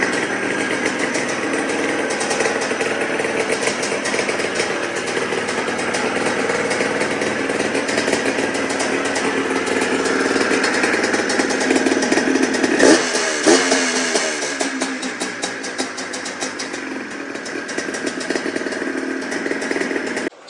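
Small two-stroke engine of a 2004 Yamaha Blaster ATV running steadily after a fresh motor install, a loud buzzing drone throughout with a brief rev change midway, no talking.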